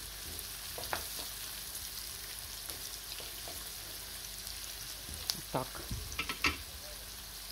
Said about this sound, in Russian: Обжариваю лучок.